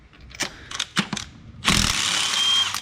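Quick bursts of a socket ratchet clicking while spark plugs come out of a GMC 2.4 engine, then a sustained rasping ratchet run, close and loud with no talk.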